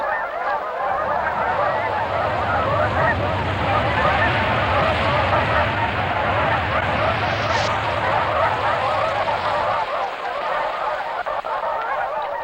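A huge flock of geese honks during spring migration in Wood Buffalo Park, a dense, loud and continuous chorus of overlapping calls with a low rumbling undertone throughout.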